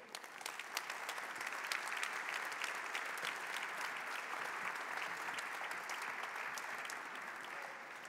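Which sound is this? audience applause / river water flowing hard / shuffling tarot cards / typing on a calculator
audience applause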